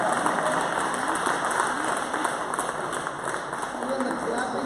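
A congregation at a night vigil applauds in a dense, steady wash of clapping that fills the room, with a voice speaking through it.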